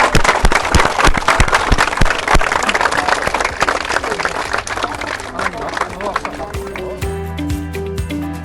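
A crowd welcomes home young champion athletes with loud, dense clapping and cheering, crowd noise dominating before a rhythmic drum-like beat and tones emerge near the end.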